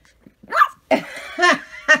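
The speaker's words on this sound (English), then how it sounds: "Oh, no, a mad puppy. Angry puppy." An angry puppy gives a few short, sharp yappy barks, close and fairly loud, spaced irregularly over a quiet background.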